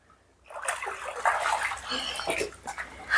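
Water flows in a steady, fairly close rush with splashy texture at a Gir cow farm, and voices can be heard in the background.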